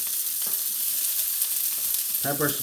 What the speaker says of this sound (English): my pan is nicely smoking up there. I add in my peppers